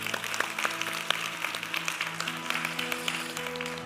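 Church congregation applauding a wedding couple during a Sunday service: steady dense applause with many overlapping claps, sustained throughout under a faint background tone, no speech.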